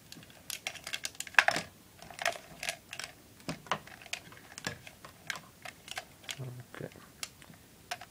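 Logitech Attack 3 joystick being unwrapped from its packaging, giving a run of close, crisp plastic crinkles and small clicks with scattered brief taps throughout.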